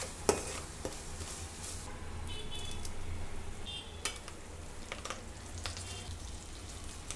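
Onions frying in a pot for chicken biryani give a soft, low sizzle, joined by a few clinks and scrapes of a spoon against the pot; quiet and steady with no talking.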